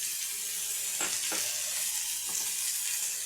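Onions and tomatoes with salt sautéing in a pan for egg masala: a continuous close sizzle with a couple of brief stirring scrapes, no speech.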